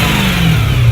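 Brief, loud burst of exhaust from a BMW M3 being revved, a deep close engine roar that swells and then drops slightly in pitch within a second.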